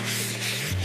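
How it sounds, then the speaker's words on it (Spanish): Sandpaper rubs wood along the grain to prepare for chalk paint, a close, loud, continuous rasping scrub with a low hum underneath and no talk. "lijarla mucho. Se da por todos los sitios. Siempre al sentido de la veta."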